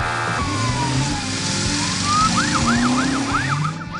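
Cartoon police car siren on patrol, loud and close, first a long gliding wail, then a fast run of repeated rising-falling whoops alone with no talk.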